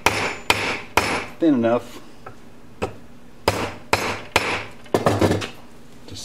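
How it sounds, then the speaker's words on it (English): A hammer pounds a piece of lead flat with a series of sharp, irregularly spaced metallic blows, close and loud, with a brief squeaky scrape partway through and a few spoken words. "I've been hitting the bottom of this with a hammer and it seems to work pretty well to shorten it up"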